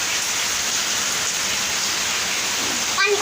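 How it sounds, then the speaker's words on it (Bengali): Heavy rain pours down in a loud, continuous, even hiss, close and steady throughout, with a faint clatter at the very end. "অনেক বৃষ্টি হচ্ছে"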